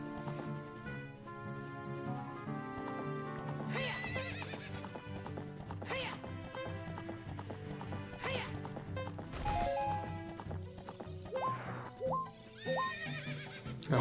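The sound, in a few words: horse neighing and bucking in video game Ocarina of Time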